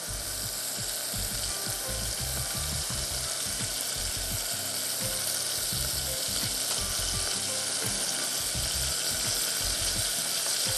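Cauliflower fries bubble and sizzle in hot oil with a dense, steady hiss and crackle, close and continuous without any talk.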